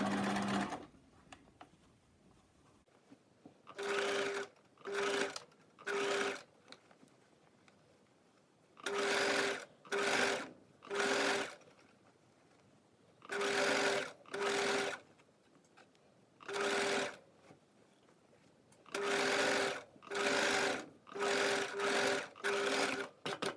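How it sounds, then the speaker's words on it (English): A sewing machine understitches the facing of a coat hem in a dozen or so short bursts of stitching. Each burst lasts a second or two, with quiet pauses between, and the machine is heard alone at close range. "And so there you have the understitching, just about 1 millimeter away from the seam"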